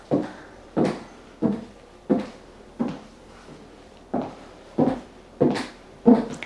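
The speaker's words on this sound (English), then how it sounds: "Excuse any noise that's happening with my shoes right now" High heels strike the floor in a slow, even walking rhythm, about ten distinct clacks close by, with no talking.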